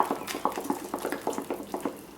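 Breadfruit pancake batter is stirred with egg yolk in a bowl, making a brisk, rhythmic run of wet squelching strokes, close and steady.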